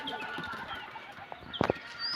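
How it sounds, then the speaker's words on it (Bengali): Pigeons kept on a city rooftop, about twenty-one pairs, give soft murmuring coos and a short burst of wing or body movement near the end, all at moderate distance with steady background hum. "আর এটা হচ্ছে আমার সব কবুতর"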